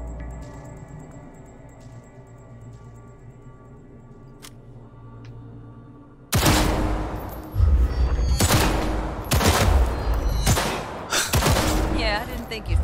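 Rapid bursts of gunfire in the video game Cyberpunk 2077, starting abruptly after a quiet stretch of game music and repeating in loud clustered volleys, with a voice speaking over parts of it.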